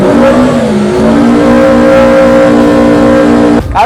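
A dragster car accelerating hard through its gears on water, with a loud, close engine note that climbs steadily in pitch, briefly dips at a gear change, then cuts off abruptly near the end.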